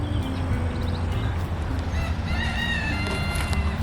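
A rooster crows in a backyard garden during a late-spring walk through a zone 9b yard. The crowing comes in the latter half, moderately distant and partly masked by steady outdoor background noise.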